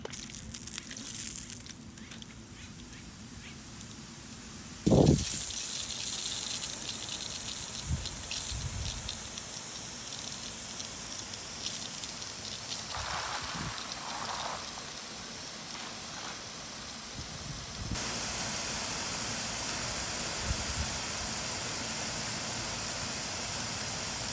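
A homemade PVC hose-end sprinkler sprays water with a continuous broad hiss that jumps louder as the flow starts, then holds steady with small shifts in intensity.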